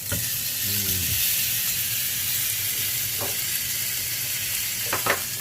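A salted beef entrecote steak sears on a stovetop with a constant close hiss and sizzle, a short voice and a few clinks breaking in.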